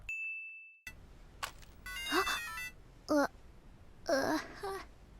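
A phone rings in the anime Symphogear: a steady electronic ring tone sounds close and clear, then cuts off abruptly, followed by animated voices talking and exclaiming.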